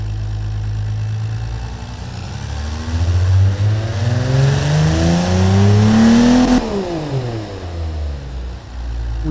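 An inline six-cylinder engine of about 215 kW, tested in the Automation car-building game, revs up steadily for several seconds, its pitch climbing loud and smooth, then drops back abruptly toward idle, with no voices.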